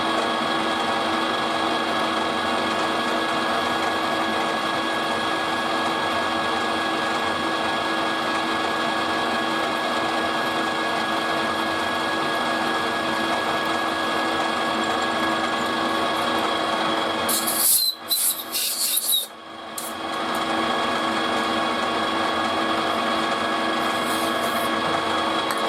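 A power drill bores into metal during a BSA bush-to-bearing conversion, a steady close whine that runs almost throughout, with a brief stop and restart near the end.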